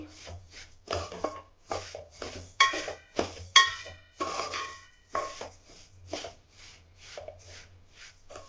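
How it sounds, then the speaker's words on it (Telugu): Sesame seeds being dry roasted in a pan for a spicy sesame powder, with steady scraping and stirring strokes of a utensil against the pan and quick rhythmic clinks, close and alone. "ఇంకా సేపు వేయించుకుందామండి"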